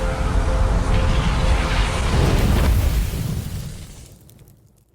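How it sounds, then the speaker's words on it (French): A sun explodes in a video game with a loud, sustained roaring rumble that holds for about three seconds, then thins and fades away into near silence. "Le soleil explose, tout revient à zéro"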